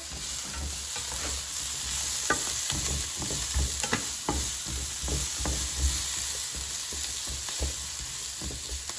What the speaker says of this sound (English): now the oil is sizzling, so we need to mix it